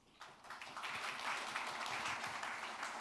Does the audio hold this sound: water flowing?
no